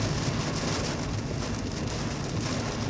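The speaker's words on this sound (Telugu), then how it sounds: "ఒక లెవెల్లో కొడుతుంది వర్షం అయితే." Heavy rain pounds a car on a highway in Maharashtra, a dense, unbroken roar of drops hitting the body and windshield, loud and close throughout.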